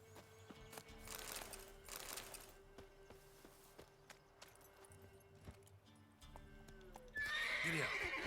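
A horse in the video game The Witcher 3 moves at a steady pace with rhythmic hoofbeats and faint jangling tack, ending in a loud, close whinny.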